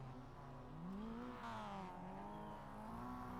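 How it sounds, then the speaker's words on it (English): Mazda MX-5 Cup race car engine in iRacing, revving steadily with rising and falling pitch sweeps, a loud continuous simulated motor drone with no talk over it. "Rev the engine and get it warmed up"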